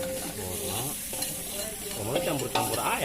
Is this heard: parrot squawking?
no